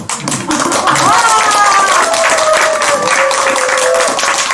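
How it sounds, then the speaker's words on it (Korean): Loud, close clapping from an audience at a Korean health lecture, a short sharp burst that swells into continuous applause with voices talking over it. "박수 안 쳐요?"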